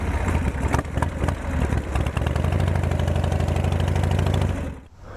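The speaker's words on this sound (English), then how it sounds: "That's a cold start." A 29-year-old motorcycle engine idles after a cold start with a loud, close, steady mechanical thrum that fades out near the end, without any talking.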